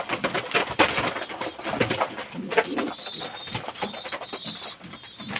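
King pigeons in a loft, soft cooing and rustling from birds nearby with occasional wing flutters and handling noises, continuous bird sounds throughout.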